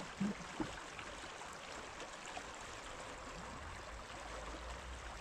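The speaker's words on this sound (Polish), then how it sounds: "No to jest strumyk" A small unnamed forest stream near Borowa Góra, by an abandoned forester's lodge near Zagnańsk, gives a soft, steady, faint rushing wash of flowing water with no voices.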